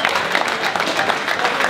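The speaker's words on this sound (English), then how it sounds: "Let's give him a round of applause first and foremost." A dense burst of audience applause for UFC fighter Ross Pearson at an open workout Q&A in London, steady and fairly loud with no talking over it.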